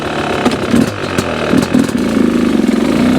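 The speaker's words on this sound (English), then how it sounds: "With the heavy flyweight, it's just beautiful the way it idles." A Yamaha YZ250X two-stroke dirt bike fitted with a heavy flyweight idles up close, a loud, steady, burbling putter with slight rhythmic unevenness and no talk.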